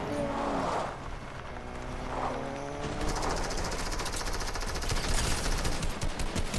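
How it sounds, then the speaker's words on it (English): Rapid automatic gunfire from a video game, a dense rattling burst that starts about halfway through and carries loudly to the end, following a quieter opening with faint electronic game tones. "That's one shot, let's go."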